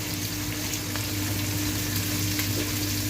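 Spicy Filipino adobo fries in a pan with a loud, continuous sizzle and a low steady hum beneath, close up and unbroken, without any voices.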